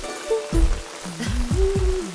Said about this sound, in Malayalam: എന്നാ മഴയാ!